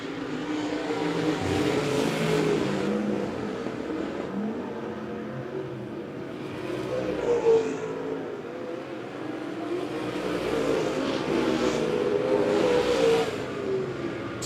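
USRA stock cars racing at Monett Motor Speedway, engines roaring and revving as cars pass at a distance, swelling and fading in waves over a steady background drone.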